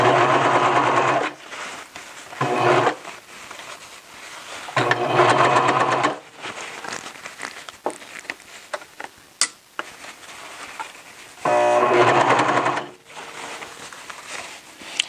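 A serger stitches a T-shirt in several short, fast whirring runs separated by pauses with light handling clicks and fabric rustle, close and clear.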